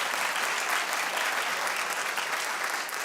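Studio audience on a daytime talk show clapping steadily and loudly, a dense, continuous wash of applause filling the whole stretch without pause.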